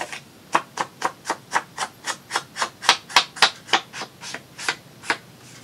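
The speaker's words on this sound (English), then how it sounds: "Don't forget to ink your papers." Paper edges being inked for a junk journal, a rhythmic series of about seventeen short brushing rubs in steady succession, close and fairly loud, with no voices.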